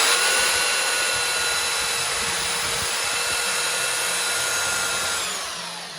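A Parkside PBSD 900 A1 belt sander runs on timber, a steady close whirring drone with a constant high whine that eases off slightly at the end.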